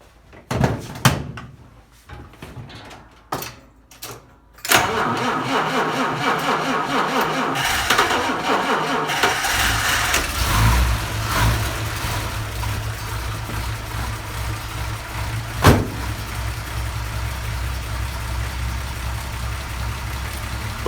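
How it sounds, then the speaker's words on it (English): A cold vintage Mopar car engine cranks over with a few uneven starter bursts after door and handling clunks, then catches and settles into a steady, loud idle that runs on with one brief knock. "the car is stone cold"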